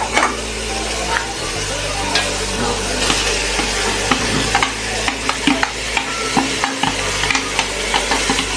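Carrots and other vegetables stir-fry in a pan for a chicken spaghetti dish, a loud continuous sizzle under repeated scraping and tossing strokes from the spatula, growing choppier toward the end.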